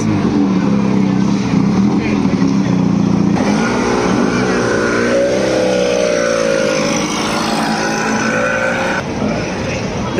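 Engines of classic Fiat 500 cars hum and rev at a club gathering outside Catania, Sicily, a steady, fairly loud motor drone that rises in pitch midway, with voices talking over it.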